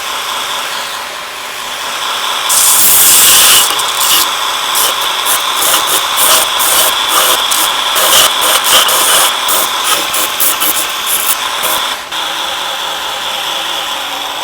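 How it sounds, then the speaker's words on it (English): Belt grinder smoothing and cleaning chopped pieces of explosion Damascus steel before welding, a loud continuous abrasive whine with rhythmic surges as each piece is pressed to the belt, close and steady for the whole stretch. "Put them on the belt grinder and get them nice and smooth and clean, ready for welding."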